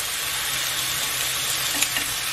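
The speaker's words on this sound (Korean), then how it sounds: "그래서 저는 좀 바싹 졸여주겠습니다" LA galbi short ribs sizzling in a pan as their marinade reduces, a close, dense, steady frying hiss with faint crackles, no voices.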